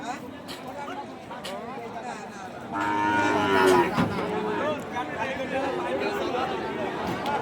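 Cattle low loudly amid a busy crowd at a cattle market, with a long harmonic moo rising midway over constant chatter and market hubbub.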